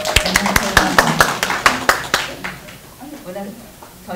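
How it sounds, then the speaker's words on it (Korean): An audience at a Seoul NPO forum claps in quick, regular bursts. The claps fade after about two seconds, and a voice then speaks over a quiet room. "자, 큰 박수 부탁드리겠습니다"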